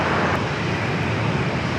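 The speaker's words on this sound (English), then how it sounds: "And we can hear the go-around." An airliner on a go-around at San Diego airport roars as a steady, loud broadband engine rumble that fills the whole stretch, with light wind noise over it.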